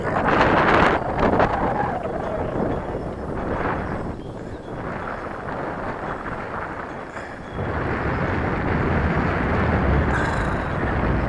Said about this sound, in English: It really is very windy.